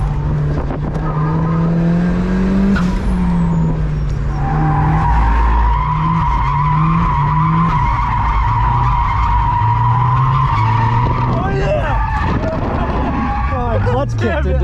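A boosted Mazda Miata drifts through a cone course, its tires squealing in long sustained wails over a revving engine whose pitch rises and falls, close and loud, with people talking over it.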